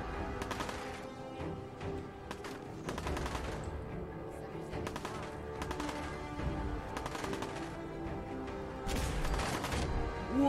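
Laser musket charged shots from Fallout 4 fire as a rapid series of sharp electric zaps and bursts in an even rhythm over steady game ambience, with faint talking underneath.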